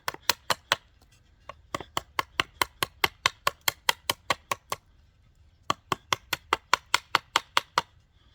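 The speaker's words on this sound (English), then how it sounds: "Do your chops, get it most of the way there" A TOPS Trail Seeker knife chops into wood in fast, steady strikes, about two dozen sharp knocks in two runs separated by a short pause, close and clear with no talking.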